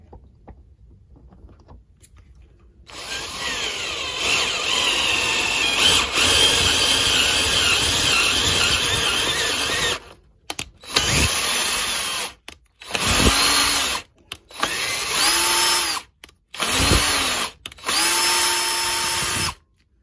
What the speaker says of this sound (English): I'm just going to go in very slowly with the drill, and I think it'll be okay.